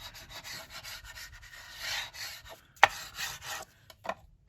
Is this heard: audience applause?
no